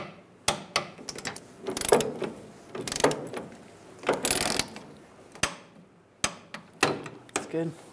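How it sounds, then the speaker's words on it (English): A ratchet tightens the bolts of a fuel pump assembly on a 1999-2006 Chevrolet Silverado to torque, giving repeated close clicking bursts and sharp clacks of the mechanism with brief pauses between strokes. "Now we'll torque these to 30 foot-pounds."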